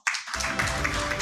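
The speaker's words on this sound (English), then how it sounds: "Let's welcome him all together with a huge round of applause, everyone." A conference audience at an automotive skills partners forum bursts into applause to welcome a speaker, a dense steady patter of clapping that rises abruptly and holds for the short stretch.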